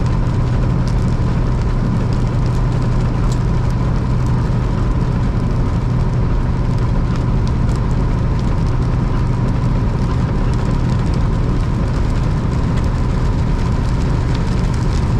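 Steady rain and road noise fill a car moving on the I-64 highway in Illinois, a loud constant wash with faint drops ticking against the glass.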